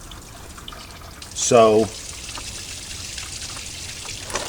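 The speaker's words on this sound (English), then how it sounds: "I am now in the process of draining the fluid so I can pull the radiator" Coolant drains from the radiator of a 2002 Toyota Camry in a soft, continuous trickle and drip, with a man's short spoken word briefly louder over it.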